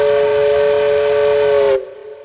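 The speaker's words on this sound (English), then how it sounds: "he blew the whistle himself, just to show how happy he was" A train whistle sounds during a storytime reading of Charlie the Choo-Choo. It is one loud, steady, tonal blast held for nearly two seconds, then cut off abruptly, with no voices over it.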